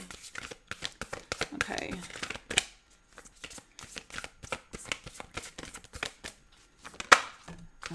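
Tarot cards are shuffled by hand in a quick run of crisp riffling and slapping bursts, with a voice speaking briefly in between.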